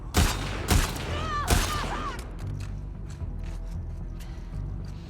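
Gunfire from The Last of Us Part II: three loud bursts of in-game shots in the first two seconds, followed by quieter clatter and thuds under a steady game-ambience bed.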